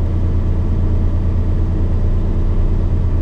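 A car engine idling at low temperature, a steady, loud, close low rumble and hum that holds even throughout, with no talk.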